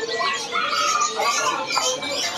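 Jalak kebo myna birds call with harsh, chattering squawks and rising whistles, close and fairly loud, overlapping one another in a steady busy stream at a bird shop.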